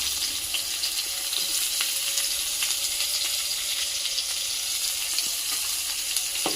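Garlic and sliced onions fry in a pan during Sri Lankan home cooking, a constant close sizzle and crackle with occasional stirring pops and scrapes, steady throughout with no talking.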